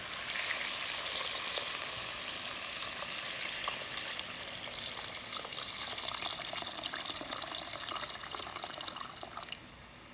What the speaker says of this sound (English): Now to add the water.